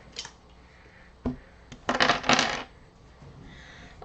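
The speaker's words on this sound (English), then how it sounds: "Get these dice here." Dice are rolled during a game of Rolling America, giving a few sharp clicks followed by a burst of rattling and tumbling on a hard surface, close and fairly loud, with no talk.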